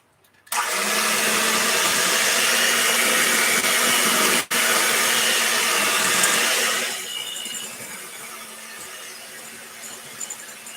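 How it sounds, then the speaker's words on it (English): An electric mixer whirs loud and close through oatmeal raisin cookie dough, running steadily for several seconds with a brief dip before winding down and going quiet. "And then we're going to turn on the mixer again."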